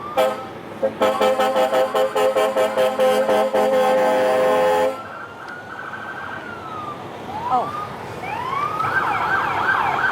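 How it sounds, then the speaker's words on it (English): Movie-style police cars in a Fourth of July parade blare loud rapid electronic wail sirens, then slower rising and falling sweeps follow, with a brief exclamation from someone nearby. "movie police cars. They have terrific sirens, as they do every year."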